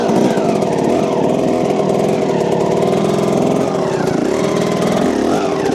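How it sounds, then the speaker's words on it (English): A motorcycle engine runs steadily at low revs while the clutch is slipped to pivot the bike around, giving a continuous, close, fairly loud mechanical drone with slight rises and dips in pitch and no talk. "you slip the clutch and allow that bike to kind of shimmy its way into the right direction"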